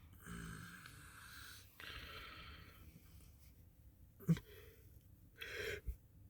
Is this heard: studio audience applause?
no